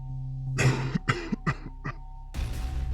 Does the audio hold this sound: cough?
yes